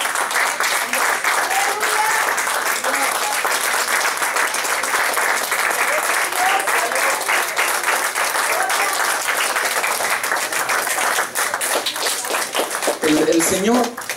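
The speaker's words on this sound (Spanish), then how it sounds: "dele un aplauso al Señor" A church congregation applauds the Lord during a Spanish-language service, sustained dense clapping and cheering filling nearly the whole stretch, loud and steady, with voices mixed in before it thins out at the end.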